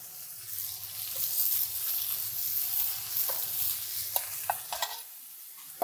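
Potatoes frying in a pan with pork fat and butter, a steady crackling sizzle with stirring and a few sharp clinks of a utensil near the end.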